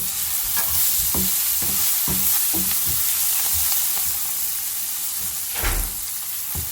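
A spoon stirs vegetables frying in a pan for vermicelli pulao, with repeated scraping strokes over a constant loud sizzle, close up and without talk.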